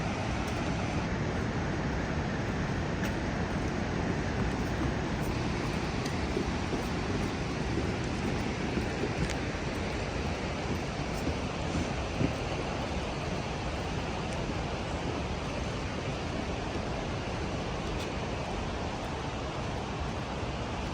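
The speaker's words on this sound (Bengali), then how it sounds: "এই যে ঝর্ণা থেকে যে গড়িয়ে গড়িয়ে এদিকে যাচ্ছে নদীটা" Water from a waterfall at Parc des Chutes de Sainte-Ursule tumbling down a steep hillside into a river, a steady broadband rushing roar that runs unbroken and fairly loud for the whole stretch.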